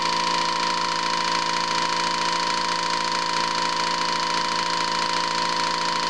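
Fuel injectors firing steadily on a cleaning test bench, a continuous even mechanical buzz with a sharp tonal hum, loud and unbroken with no talk.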